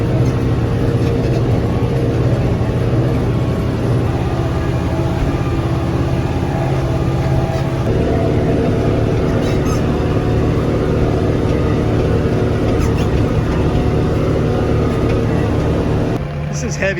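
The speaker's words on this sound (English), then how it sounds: "the skid steer built for this with the powerful hydraulics works great" A skid steer loader with powerful hydraulics works on a hay field, its heavy diesel engine droning loud and steady with a low throbbing hum, the load shifting partway through and a brief change near the end.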